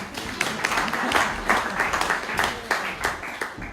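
At a bushfire community meeting in Mallacoota, an audience gives a short round of close, steady applause, many hands clapping together with a few murmured voices underneath.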